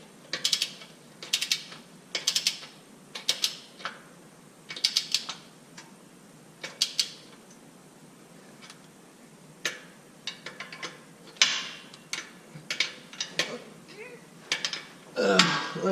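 A hand ratchet clicks in quick repeated bursts while tightening bolts on a 2017 Subaru WRX transmission mount, crisp and close with short pauses between strokes, in a quiet garage.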